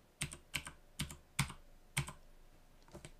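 Fingers tap a computer keyboard nearby: five crisp, separate keystrokes at an uneven pace, then a couple of fainter taps, in a quiet room.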